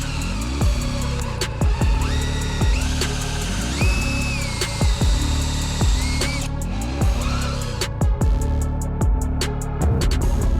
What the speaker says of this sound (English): Here you go. Drill away.